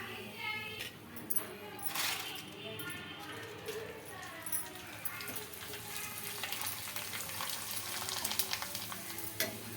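Ragi vadiyalu, sun-dried papad, sputtering in heated oil with a dense, close hiss, crackles and intermittent pops that swell toward the end, while someone speaks over the frying.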